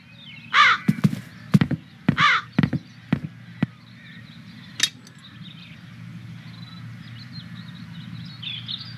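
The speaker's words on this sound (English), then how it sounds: "But first I'll deal with the crows." Crows caw inside a video-game castle, with two harsh caw bursts close by near the start, mixed with soft clicks and thuds over a low ambient hum that settles into quiet.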